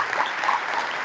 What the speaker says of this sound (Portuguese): eu queria uma salva de palmas muito grande ao nosso professor